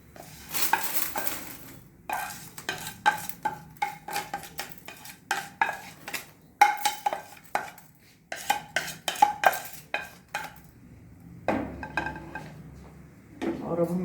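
Two roasted dals are taken out of a pan on a gas stove while making gun masala chutney powder. A spoon clatters and clinks against the metal pan in quick, irregular scrapes and taps, with a soft background hiss.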